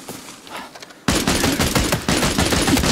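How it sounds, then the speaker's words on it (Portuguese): Automatic gunfire in the shooter game Arena Breakout Infinite: faint distant shots at first, then a sudden loud burst of rapid rattling fire that keeps going, with another surge near the end. "Tá tendo tiro, só ouvindo, né?"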